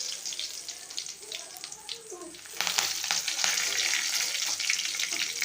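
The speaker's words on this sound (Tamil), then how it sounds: "எல்லாம் பொரிஞ்சு நல்லா வரட்டும்." Cumin, small cumin, mustard seeds and curry leaves splutter in hot oil in a dry-heated pan, a crackling sizzle that jumps louder and denser halfway through and keeps hissing steadily to the end.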